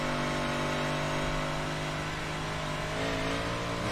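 Modified race car engine in a sim racing game, a continuous loud revving drone heard from the inside car, holding high pitch with slight shifts as it accelerates.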